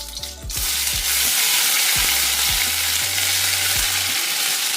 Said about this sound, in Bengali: কালো জিরে ও একটা কাঁচা লঙ্কা ফোড়ন।